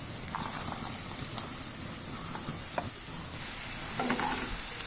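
Chopped onion and garlic cloves frying in oil with cumin seeds for lentil khichuri, a steady close sizzle with occasional crackles and stirring clicks.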